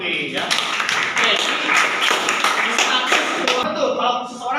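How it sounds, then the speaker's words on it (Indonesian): A classroom of students clapping for a classmate during a teaching practice lesson, a loud, dense burst of many hands close by with thumps and taps mixed in, voices chattering underneath. "tepuk tangan untuk Lutfi ya"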